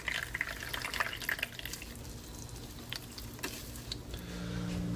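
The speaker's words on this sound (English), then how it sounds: "And it's just going to drip out." Freshly blended coconut milk drips and trickles through a twisted straining bag, a close, wet, uneven patter that thins out over several seconds, with no voices.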